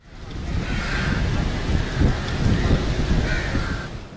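Heavy rain driven by strong winds with low rumbling, as in news weather footage from the northern areas of Pakistan, including Azad Kashmir and Gilgit-Baltistan; a steady, loud wash of noise lasting throughout with no speech.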